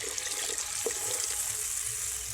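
Water pours steadily into a pan of Bengali fish curry made with large Japanese puti fish, a continuous close splashing wash that runs alone for a couple of seconds.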